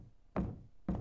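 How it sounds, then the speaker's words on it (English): Knocking on a door in the video game Curse: two separate heavy knocks about half a second apart, close and clear, with nothing else over them. "are they knocking on the door?"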